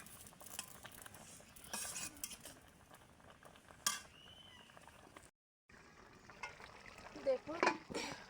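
A spoon stirs spice powder into spinach in a pan on a village kitchen stove, giving soft scraping and clinking against the pan over a light sizzle, with one brief silent gap.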